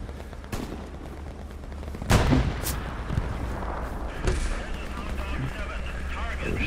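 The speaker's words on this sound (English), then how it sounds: "I'm getting shot, dang it. The shot's coming from the southeast." Gunfire in the WWII shooter Hell Let Loose: a few sharp shots crack out, one loud and near, others more distant, over steady rumbling background noise while someone talks.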